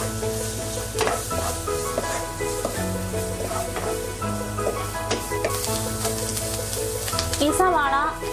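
Onions sizzle steadily in a hot pan as they soften for an aloo bonda filling, a continuous frying hiss that holds through the whole stretch with no talking.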